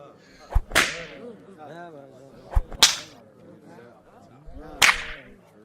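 Three loud whip cracks sound about two seconds apart as a worker is lashed. Each crack is a sharp snap with a brief ringing tail, set over a faint background with some voices.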